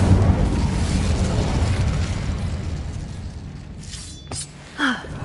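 Incendio fire spell cast in Hogwarts Legacy, a broad rumbling burst of flame that fades into softer crackles, followed by a couple of short sharp magical zaps near the end.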